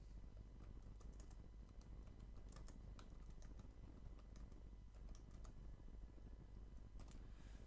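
Someone types a sentence on a computer keyboard in Microsoft Word: quiet, fast irregular key clicks over a low steady room hum, no voices.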